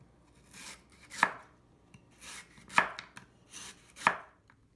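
A knife slices thin rounds of lotus root (renkon) on a cutting board, three distinct crisp cuts, each with a short drag and a firm knock on the board, spaced about 1.5 seconds apart, close and alone.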